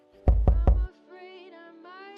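Three quick, loud knocks on a door in a steady rhythm, close by, followed by a sustained tonal hum as the scene continues.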